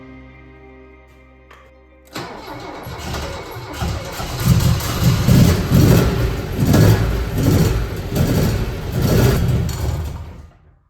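An Alfa Romeo Alfetta Quadrifoglio Oro 2.0 engine cranks and fires after brief quiet, then runs loudly close by, rising and falling in repeated revs over a rough idle.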